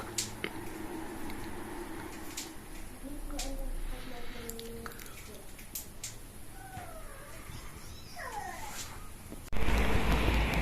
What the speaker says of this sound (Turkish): Köpekleri oynatacağız biraz.